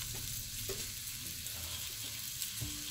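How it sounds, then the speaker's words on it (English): Floured beef pieces browning in hot oil on medium heat in a stew pan, a steady soft sizzle and crackle with occasional faint stirring knocks, no talking. "You then transfer it to the hot oil on medium heat"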